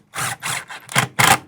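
A power driver whirs in several short bursts, backing screws out of a window frame during a window installation, close and loud with brief pauses between runs.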